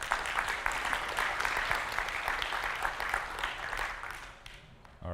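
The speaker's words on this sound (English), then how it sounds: "give a round of applause for Nico" Applause fills the hall at the UI5con 2024 developer conference as a speaker is welcomed, a steady wash of many hands clapping that tapers off near the end.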